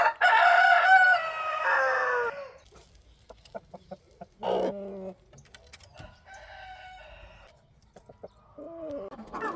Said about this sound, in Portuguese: Olha como ele chama as galinhas.